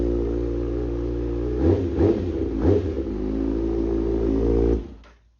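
A 2019 Kawasaki Ninja ZX-6R sport motorcycle with a full M4 GP exhaust system idles steadily in a garage, gets three quick throttle blips, then shuts off, close up and loud.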